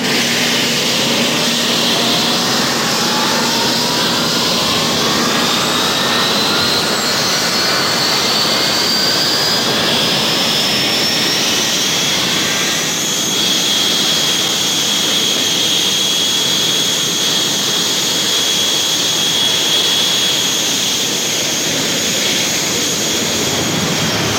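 Argentine Navy jet aircraft taking off from an airfield in southern Argentina, a loud continuous engine roar with rising whine that holds steady for the whole stretch, no voices.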